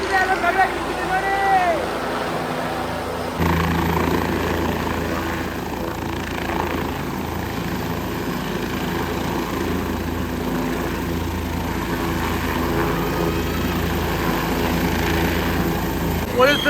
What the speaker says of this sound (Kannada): ಫೈನಲಿ ಹೆಲಿಕಾಪ್ಟರ್ ಕೆಳಗೆ ಬಂತು.